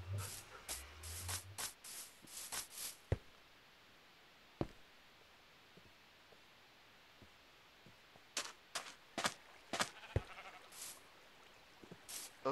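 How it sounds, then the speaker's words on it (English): Sheep bleating in the video game Minecraft, several short bleats in quick clusters at the start and again near the end, separated by quiet background. "I already named the sheep Jeb and Creative"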